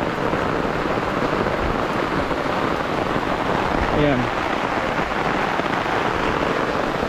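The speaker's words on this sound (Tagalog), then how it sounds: "Eh, malakas nga yung ulan." Heavy rain pours steadily in an outdoor yard with sandy ground, a dense wash of loud, constant noise throughout, with someone speaking briefly over it.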